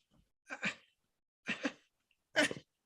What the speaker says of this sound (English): coughing in the middle of the story